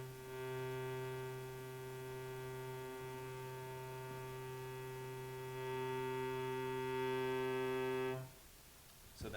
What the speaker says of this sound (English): So that sound is just the bare, unfiltered triangle wave.